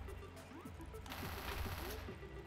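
Rapid machine-gun fire in the top-down shooter Hotline Miami: a dense burst of shots lasting about a second, heard amid the game's other sounds and rather faint overall.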